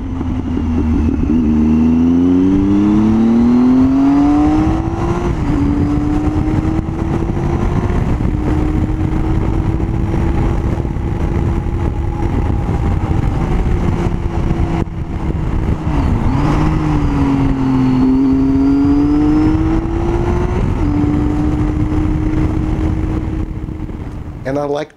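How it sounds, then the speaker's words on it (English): A 2012 Triumph Tiger 800XC with a three-cylinder inline engine revving loudly and close, its pitch rising and falling through several throttle blips over a steady idle. "All of this framed by a great soundtrack coming from its 3 inline cylinder motor."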